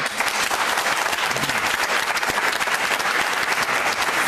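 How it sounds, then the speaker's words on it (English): An audience claps continuously and energetically, a thick, even roar of many hands sustained from start to finish. "Clap if you feel that way."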